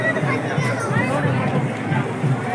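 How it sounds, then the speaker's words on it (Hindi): A large, dense crowd mills around at the Kurukshetra Gita Jayanti festival, a steady babble of many voices with footsteps and close chatter, busy and unbroken throughout. "तो भाई यहाँ पे बहुत ज्यादा भीड़ है ना"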